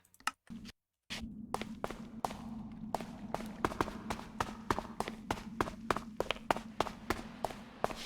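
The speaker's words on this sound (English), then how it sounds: "These footsteps are very loud." Footsteps in the RLCraft video game: loud, quick, regular steps tapping throughout over a low steady hum, after a brief silent gap at the start.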